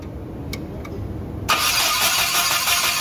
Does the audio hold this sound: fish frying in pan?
no